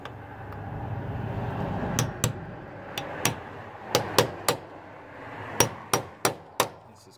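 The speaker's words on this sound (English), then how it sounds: "just get a chisel and a hammer and just kind of move it" A hammer strikes a chisel set against a one-way security screw on a door or window, with about ten sharp metallic taps in irregular clusters, close and loud over a low background hum.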